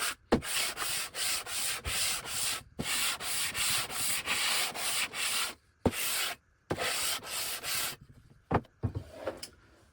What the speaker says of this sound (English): I'll polish up, remove the rest of the rust, polish up the rest with sandpaper